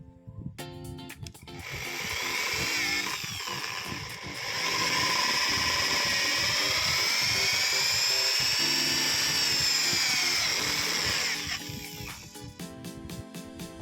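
Power drill boring a hole through a PVC-pipe fishing rod stand on a tackle box: a loud, steady high-pitched whine that holds for about ten seconds with a brief dip partway, then winds down. No talking.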